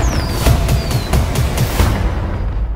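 A rapid series of sharp bangs and pops crackles close by, several bursts in a row with faint whistling streaks, fading out after about two seconds.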